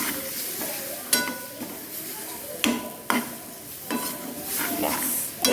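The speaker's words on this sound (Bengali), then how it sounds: "মশলাটা আমি ঢেলে নিয়েছি। আর পেঁয়াজের সাথে ভালো করে একটু কষিয়ে নেব" Spice paste frying with onions in a pan makes a steady close sizzle, broken by several sharp scraping and stirring knocks at irregular intervals.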